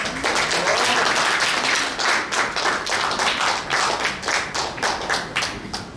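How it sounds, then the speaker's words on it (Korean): An audience at a New Year's civic gathering applauds, a dense, loud wash of clapping that holds steady for several seconds with slight fluctuations and no talk over it. "여러분 다시 한번 박수 부탁드리겠습니다."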